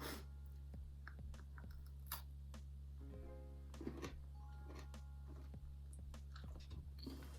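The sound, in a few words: chewing milk chocolate toffee coated popcorn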